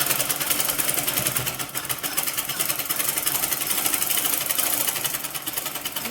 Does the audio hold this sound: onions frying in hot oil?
no